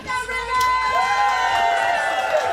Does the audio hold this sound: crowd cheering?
yes